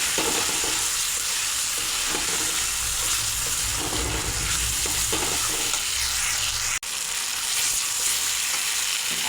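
Fried potatoes being stirred into a spiced masala in a pan, with a steady, loud sizzle running throughout and the scrape of stirring mixed in; one brief sharp click near the end, no voices.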